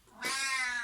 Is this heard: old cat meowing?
yes